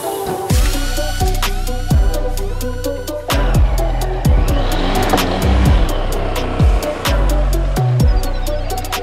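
A Lifan KPR motorcycle engine running loud and close while ridden on the highway, revving up in repeated rising sweeps broken by gear shifts, with wind rush underneath.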